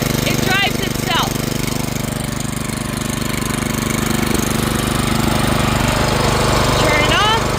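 A Benchmark reverse rotary tiller's small engine running steadily in an inground country garden, a loud, constant chugging drone throughout, with brief voice-like chirps near the start and end.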